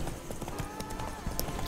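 Horse hooves clip-clop in a steady trotting rhythm while riding in The Witcher 3: Wild Hunt, close and continuous over ambient game sound.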